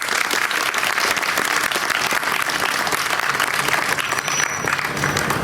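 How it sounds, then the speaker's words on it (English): Audience applauds steadily at an elementary school ribbon cutting ceremony, a loud, dense wash of clapping that stays even from start to finish with no voices over it. "If we can give them a round of applause for that."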